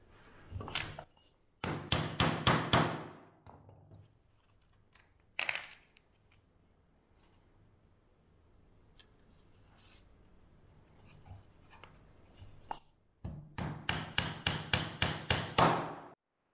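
A hammer drives nails to fix a template for plaster moulding: two bursts of quick, sharp, close taps, one early and one near the end, with a single knock between and quiet handling noise.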